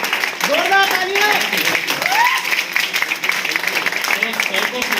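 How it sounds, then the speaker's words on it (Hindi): An audience applauds loudly for a welcomed guest, steady clapping that continues under voices talking and calling out over it. "जोरदार तालियां।"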